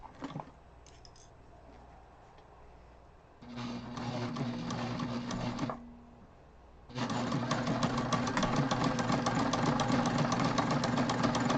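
Sewing machine running down the side seam and across the bottom of a backpack, two sustained bursts of steady mechanical whirring, the second longer and louder, separated by a short quiet pause.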